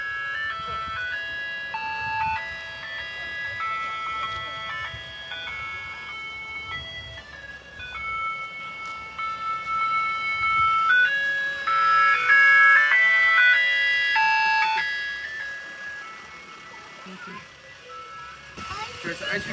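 A Fresno, California ice cream truck's chiming melody rings out clearly and continuously, swelling louder midway as it nears, with traffic noise and voices talking alongside.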